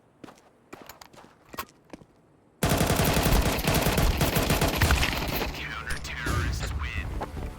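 Counter-Strike ranked match: a few sparse single shots and footsteps, then a sudden loud burst of sustained automatic gunfire with rapid overlapping reports that carries on for several seconds, a voice talking at times.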